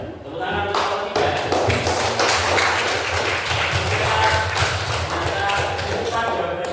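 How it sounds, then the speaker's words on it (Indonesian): Students applaud group 3 in a classroom, dense and close clapping with sharp individual slaps and thumps that continues steadily for several seconds. "tepuk tangan untuk kelompok 3"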